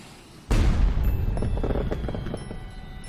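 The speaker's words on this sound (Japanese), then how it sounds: "諏訪湖毎年恒例の花火大会ね。" Fireworks bursting at the annual lake fireworks festival at Lake Suwa, in an animated film: after a quiet start comes a sudden deep boom, followed by a rumbling, crackling tail and scattered pops that slowly fade.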